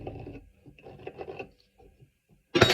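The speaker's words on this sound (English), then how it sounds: "strike a line using my sharp pointed awl" A sharp pointed awl scribes a line across wood in a few faint, short scratching strokes with quiet gaps between, ending in a sudden louder knock.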